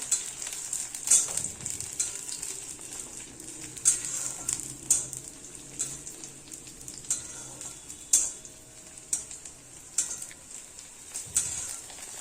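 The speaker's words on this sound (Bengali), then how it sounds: "এবার দিয়ে দিলাম কাঁচা লঙ্কাটা দিয়েও ভালোভাবে একটু ভেজে নেব" Green chilies and whole spices for a tempering fry in hot oil, giving a steady close sizzle with intermittent clinks and scrapes of a stirring utensil.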